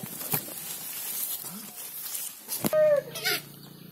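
A few soft clucks and a short rising call from a jungle fowl close by, with some faint background noise and handling sounds.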